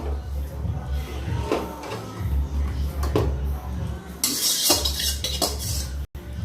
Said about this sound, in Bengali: এই যে মাছটা রান্না হয়ে গেছে, ঢেলে নিচ্ছি।